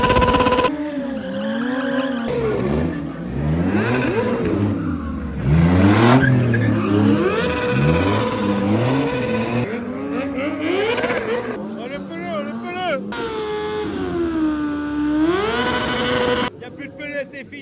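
A Porsche GT3 R race car's engine screams and shifts pitch as it accelerates along a straight, loud and close, with people talking over much of it.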